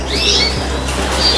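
Birds just unboxed from a shipment give high thin chirps with flutters of wings, heard close and loud over a constant low hum.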